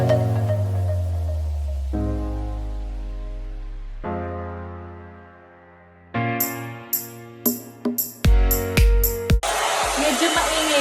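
A 2-in-1 hair dryer and volumizer brush whines with a tonal motor hum that steps down in pitch as settings change, then gives way to sharp clicks, handling knocks and a final breathy rush of air.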